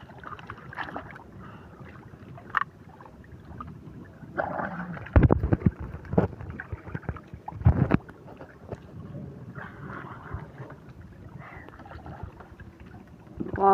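A small fishing boat moves on the water with low rumbling and sloshing, wind buffeting the microphone, and a few sharp knocks and splashes in the middle.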